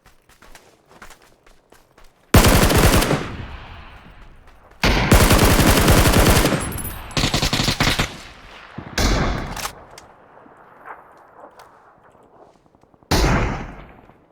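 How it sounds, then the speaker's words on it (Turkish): Loud bursts of M4 rifle fire in PUBG, the Karakin map, arrive in several separate volleys: a long stretch of rapid automatic shots, then shorter bursts with quieter shots and movement in the gaps. "Ne sıkıyorsun lan m 4'le?"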